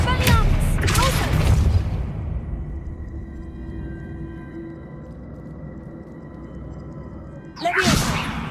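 Spell effects in the game Hogwarts Legacy burst out as booming whooshes, one cluster at the start and another near the end, with a quieter humming stretch between them.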